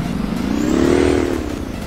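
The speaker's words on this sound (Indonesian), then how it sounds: "sekarang kita spawn si motor Mio-nya" A Yamaha Mio scooter engine in Roblox Ride & Drive Indonesia, a single close, loud rev that rises in pitch, holds briefly, then eases back down.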